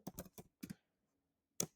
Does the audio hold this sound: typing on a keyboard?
yes